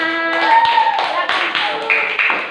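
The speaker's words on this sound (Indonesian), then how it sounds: "Beri tepuk tangan anak-anak." Children clap their hands in a classroom, a brief burst of taps mixed with overlapping voices and chatter across the short moment.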